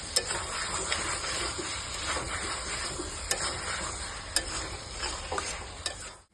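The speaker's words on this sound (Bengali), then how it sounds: "দিয়ে এবারে নাড়বো" Meat curry being stirred in a pan after turmeric is added, a sizzling fry with repeated sharp scrapes and clinks of a spoon against the pan at irregular intervals.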